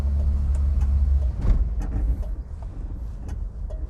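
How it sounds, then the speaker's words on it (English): A Vauxhall Viva HC with a sharp clutch drives along, its engine a steady low rumble with a brief surge of louder mechanical noise partway through, close and continuous without talk. "We have freedom to explore in the HC Viva with its sharp clutch."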